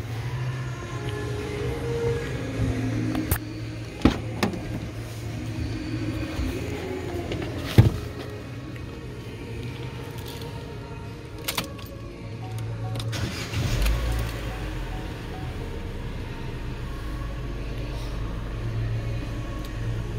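A Vauxhall Opel Corsa D with a battery warning light fault is started up, with brief clunks and clicks over a steady low engine drone that runs on evenly as it idles.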